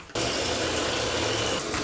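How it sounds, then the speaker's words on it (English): Warm tap water pours into a plastic tote, starting abruptly and then running as a strong, steady gushing rush, close and loud, with no one speaking. "So we're gonna fill our tote with some warm water now."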